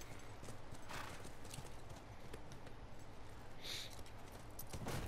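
Horse hooves clip-clop steadily on the ground in The Last of Us Remastered, a continuous loose rhythm of several animals, with a brief whinny and no talk over it.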